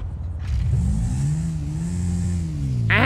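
A Honda CB500X motorbike engine in GTA 5 revs close up, a steady mid-pitched drone that climbs and wavers before a sharp rising whine at the end.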